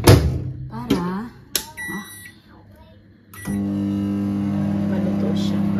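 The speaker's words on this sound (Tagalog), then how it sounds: "Microwave muna natin." A microwave oven starts up after a few button beeps and people talking, then settles into a steady, even hum that runs to the end.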